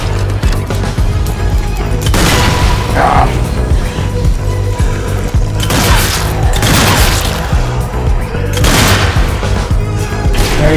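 Mine explosions in the zombie shooter Zombie Army 4, heard during horde mode: loud, booming blasts roughly every few seconds over continuous gunfire and game noise, with players talking.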